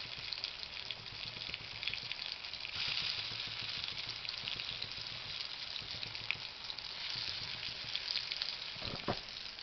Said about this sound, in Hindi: इसको मैं पहले फ्राई कर लेती हूँ